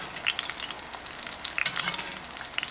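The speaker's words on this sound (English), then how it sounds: "That's how you baste a steak." A steak sizzling in a hot pan as oil is spooned over it, a steady crackling fry with sharp spitting pops scattered throughout, close and fairly quiet, with no talking.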